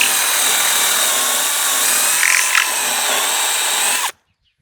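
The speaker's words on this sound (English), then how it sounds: "It should be easier now drilling." A power drill whirs steadily while boring a shaft hole in a model boat hull, a loud continuous whine with a slight wobble partway through, then cuts off abruptly into silence.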